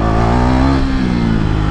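A KTM Duke 390 motorcycle engine revs loud and close for a wheelie attempt, a steady, strong growl that dips slightly near the middle and climbs again.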